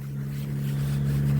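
Scooter engine idling steadily close by before an evening ride, a loud, even low hum with a strong tonal drone throughout.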